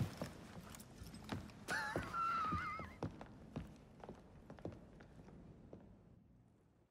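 Horses pulling a carriage through Victorian London in Assassin's Creed Syndicate clip-clop in an uneven run of hoof strikes, with a brief whinny early on and the clatter fading toward the end.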